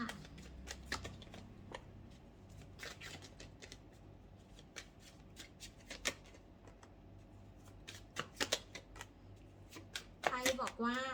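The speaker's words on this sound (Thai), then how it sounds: "มาเปิดไพ่หักให้กับคนกองที่หนึ่งนะคะ" Tarot cards shuffled and dealt onto a surface, a steady run of crisp riffling flicks and slaps at close range, with someone speaking briefly near the end.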